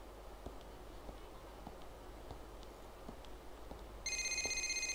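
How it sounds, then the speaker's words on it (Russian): In the video game GTA IV, a phone starts ringing near the end, a loud repeating electronic ring over a quiet background of soft footstep-like taps and ambient game noise. "Ну, кто-то звонит, Роман."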